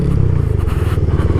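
Motorcycle jolting over a potholed road, its engine droning low and steady under a rough, bumpy rattle of loose parts and rhythmic thuds from the uneven surface, close and loud throughout.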